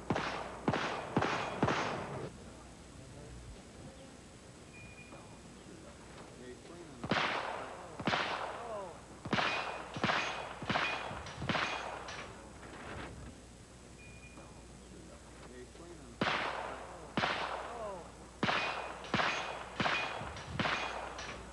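.22 caliber shots ring out in quick clusters at a shooting competition, each crack followed by a plate being knocked down, with volleys of four to six shots separated by short pauses, moderately distant.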